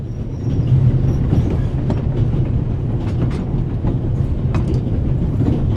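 Train from the video game The Raven rolling steadily along its tracks, a loud continuous rumble with faint rhythmic clatter from the wheels.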